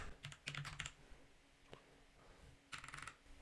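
Code typed on a computer keyboard: a quick burst of close, light key clicks, a pause with a single tap, then another short flurry of keystrokes in a quiet room.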